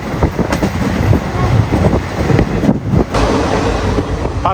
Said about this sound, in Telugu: ట్రైన్ అయితే మటుకు చాలా గట్టిగా లాగుతున్నాడు, 110 km/h స్పీడ్తో పోతుంది